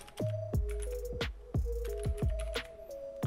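Someone types a PowerShell command on a computer keyboard, a quiet run of sparse, irregular key clicks with a steady low hum underneath.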